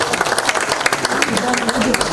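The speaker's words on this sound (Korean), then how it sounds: "큰 박수 부탁드리겠습니다" Steady audience applause fills a Democratic Party caucus meeting room, with a voice faintly audible beneath the clapping.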